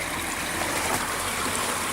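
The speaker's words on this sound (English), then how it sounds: "could probably do something to speed up the water flow up here a little bit" Water rushes steadily through a gold sluice fitted with a hog mat, a close, even wash of splashing flow with no break.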